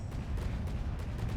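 Naval cannons firing in a battleship battle in the video game From the Depths, heard as a continuous low, rumbling barrage of booming shots with no pauses.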